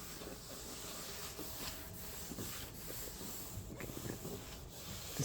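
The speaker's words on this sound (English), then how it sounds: "And just, yeah, give it a wipe." Rag wiping over dusty sanded panels of an aluminium Quintrex Dory 420 boat hull, soft repeated rubbing strokes, close and faint.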